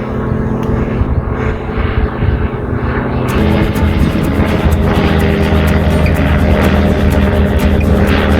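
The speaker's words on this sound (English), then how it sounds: "Got 2 planes." A loud, steady aircraft engine drones overhead, a propeller hum that grows more insistent partway through.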